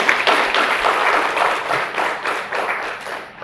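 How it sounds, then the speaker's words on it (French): Loud, sustained applause from a large gathering at a union's election congress in Abomey-Calavi, Benin: a thick wash of many hands clapping together, steady for several seconds with no talk over it. "Applaudissez pour vous."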